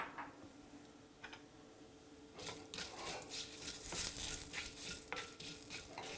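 A small teaspoon of red chili powder is stirred into tomato rasam in a pot off the heat, giving soft scraping and stirring sounds with faint sizzle, rising slightly midway, no talk.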